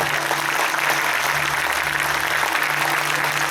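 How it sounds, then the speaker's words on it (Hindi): Dense, continuous clapping from a large church congregation, loud and unbroken, with a low steady hum beneath it. "आप कंजूसी से ताली बजा रहे हैं।"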